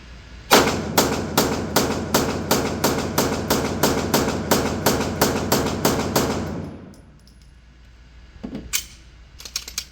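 Rapid string of about twenty evenly spaced gunshots from a firearm with a short reset trigger and LEM, sharp and loud, followed by a pause and a couple of mechanical clicks.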